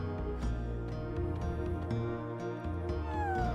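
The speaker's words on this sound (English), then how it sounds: "Serge also has a cat that follows him around" A cat meowing in Chrono Cross, a short meow near the end over steady game music and ambient sounds, with no voices.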